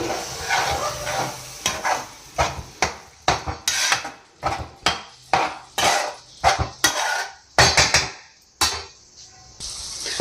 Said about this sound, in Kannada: ಈಗ ಹಣ್ಣು ಹುಳಿನ ಸ್ವಲ್ಪ ಸೇರಿಸಿ ಒಂದು ಮಿಕ್ಸ್ ಮಾಡಿ